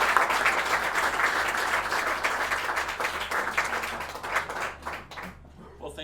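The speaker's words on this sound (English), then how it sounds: "So let's give a round of applause," Audience applause closing a business coaching panel, steady broadband clapping from a crowd that holds for several seconds and then thins out toward the end.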